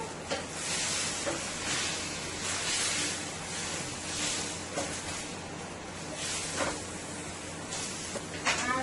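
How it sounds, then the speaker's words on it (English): Onions fry in a hot pan with seasoned fish for escovitch fish, giving a steady, close sizzling hiss with a few soft bumps from stirring. "Now let's add our onions. Let our onions cook for about a minute."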